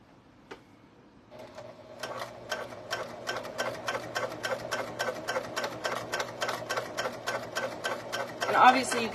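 A sewing machine stitching nylon webbing for keychains runs in a fast, even rhythm of needle clicks after a brief quiet start, fairly close and moderately loud, with a voice talking faintly underneath.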